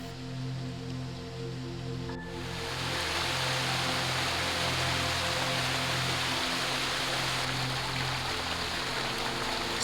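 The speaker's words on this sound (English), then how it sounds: "listen to the murmuring stream" Continuous water murmur from a stream in a Kyoto Zen temple garden at Nanzen-ji, a broad soft hiss that swells louder after a couple of seconds and then flows on evenly.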